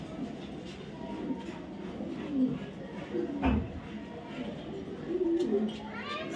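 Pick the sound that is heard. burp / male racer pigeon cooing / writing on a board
male racer pigeon cooing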